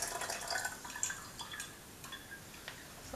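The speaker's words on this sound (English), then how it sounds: "This is my finished water kefir, and I'm just straining out the grains." Finished water kefir drips and trickles through a strainer as the grains are separated out, a soft, irregular patter of droplets close by with no talking.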